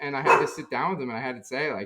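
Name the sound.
dogs barking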